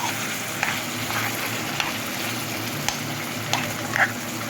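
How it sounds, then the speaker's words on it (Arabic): Alexandrian-style liver fries in hot ghee in a pan, a steady close sizzle with occasional sharp pops and spatters and a brief louder crackle near the end, with no talking. "هنحمر شويه شويه كده، نقلبه ونحط شويه على جنب. والسمنه سخنه، الطاسه سخنه"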